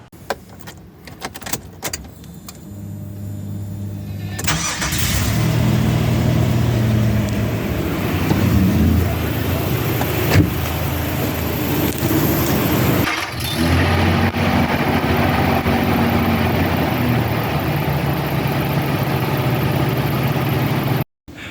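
A 2003 Nissan Xterra engine cranks briefly and catches, then settles into a steady, loud idle that hums on for the rest of the clip.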